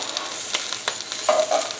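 Kale tossed in a hot pan with tongs makes a steady sizzle under several quick scraping stirs and light clicks, with a brief squeak near the end.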